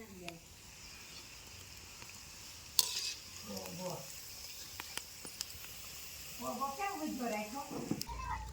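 Manchurian balls fry in hot oil with a steady, soft sizzle, broken by a few sharp clinks of a utensil and brief bursts of talk.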